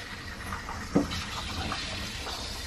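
RV faucet running during winterizing as antifreeze flushes through the plumbing, giving a faint steady water flow with a brief gurgling splash near the start.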